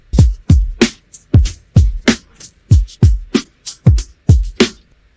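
Drum stem isolated from an AI-generated song, with vocals and other instruments muted: a steady beat of about a dozen punchy kick-and-snare hits with crisp cymbal tops, alone and clean.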